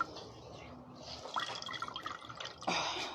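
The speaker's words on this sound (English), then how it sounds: "I went and pulled the rag right out the water and dragged all that water with me" Water dripping and splashing from a rag pulled out of a basin of water, a few close, distinct drips and splats over a soft background wash.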